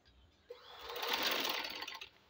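An electric sewing machine stitching trouser fabric, starting abruptly and running in a fast steady whir for under two seconds before stopping, fairly close.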